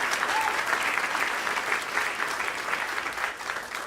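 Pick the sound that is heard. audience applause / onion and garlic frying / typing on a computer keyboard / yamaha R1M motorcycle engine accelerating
audience applause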